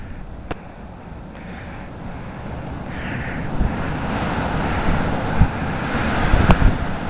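Steady roaring wind of a snowstorm beginning in Burbank, Illinois, blustering against the microphone in a continuous broadband rush that swells gradually louder with gusts toward the end.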